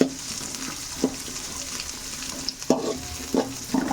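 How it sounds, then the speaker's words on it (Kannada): Chopped onions for vegetable fried rice frying in hot oil, a continuous sizzle punctuated by several sharp scrapes and clanks of a spatula against the pan, close and clear with nobody speaking. "ಈರುಳ್ಳಿ ಹಾಕೊಂಡು ಫ್ರೈ ಮಾಡ್ಕೊಳ್ಳೋಣ ಚೆನ್ನಾಗಿ"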